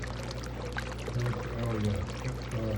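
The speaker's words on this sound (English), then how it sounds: "But I like how this kind of just bubbles up. It's kind of like a fountain, obviously, with a little pressure." Aquarium return water bubbles up like a small fountain from a 500 gallon-per-hour aquaponics pump, a steady close churning gurgle and splash with a low hum underneath, continuous throughout.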